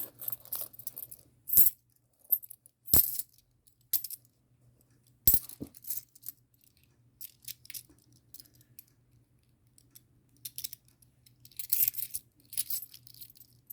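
Polished brass 1999 Korean 10-won coins clink and tap as they are handled, with a few sharp metallic knocks and softer scattered jingles over about fourteen seconds against a faint low hum, with no talking.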